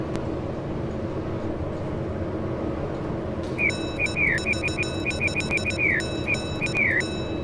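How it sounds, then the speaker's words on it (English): Over a constant low mechanical hum, an elevator's electronic alarm starts partway through, repeating short warbling beeps in a rapid rhythmic pattern. "What happens when I press the alarm?"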